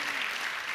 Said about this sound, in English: please stand up and be applauded here.